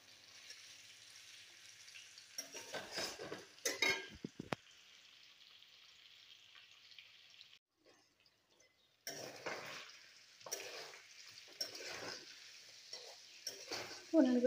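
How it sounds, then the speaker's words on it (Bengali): Paneer frying with garam masala in a pan, a faint steady sizzle broken by bursts of stirring and scraping, with a short pause before the frying noise resumes. "ভালো করে পনিরটা ভাজা হয়ে যাক।"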